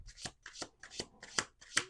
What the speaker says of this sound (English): I keep it in the deck and I keep shuffling